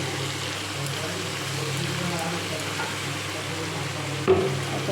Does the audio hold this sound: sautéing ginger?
yes